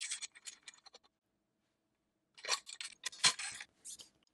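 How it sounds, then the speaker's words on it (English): The ZUNE LOTOO 18-in-1 camping shovel multi-tool is folded in for storage, giving short metallic scrapes and clicks in two bursts separated by a silent gap, close and fairly quiet. "we can fold this all the way in for storage"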